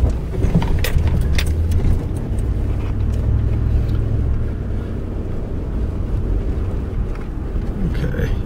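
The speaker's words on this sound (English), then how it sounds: "Should be able to get a picture of some of the cars going down the interstate here." Traffic rushes steadily along Interstate 40 as a continuous, fairly loud roar of passing cars and tyre noise with no gaps, the wash of vehicles dominating throughout.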